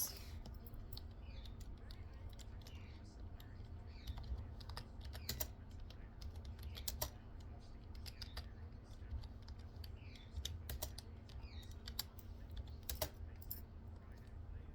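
Rapid typing on a computer keyboard clatters in quick uneven clicks over a steady low room hum, fairly faint and close, with no voice.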